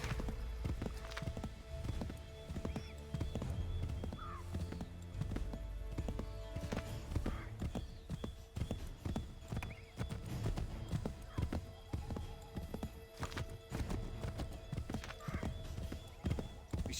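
Horses galloping in the Assassin's Creed game, a steady close clatter of hooves with an occasional whinny, continuous throughout with faint game ambience beneath.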